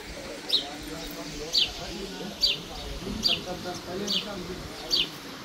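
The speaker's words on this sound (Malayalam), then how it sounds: "നിറയെ കിളികളുടെ ശബ്ദം കേൾക്കാം." Birds call repeatedly at Riyadh Zoo, short bright chirps recurring about every second against steady outdoor ambience, with people talking faintly in the background.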